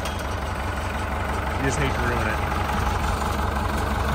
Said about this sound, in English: I always make sure to let it idle for quite a while and warm up.